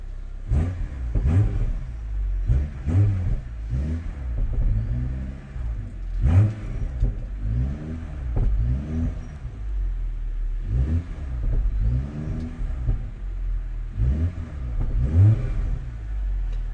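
A 2021 BMW M440i coupe's engine revs repeatedly up close, each blip swelling and dropping away in a steady run of rising and falling sweeps over a constant idle rumble, with no talking.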